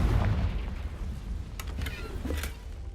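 Confringo blasting spell explosion in a video game, a deep, rumbling boom that opens loud and close, then settles into a low roar with a few sharp crackling bursts toward the end.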